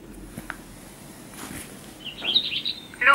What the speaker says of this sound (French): Le rouge-gorge chante dans le jardin.